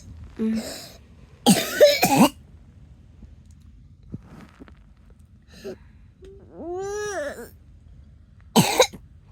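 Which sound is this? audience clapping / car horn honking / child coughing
child coughing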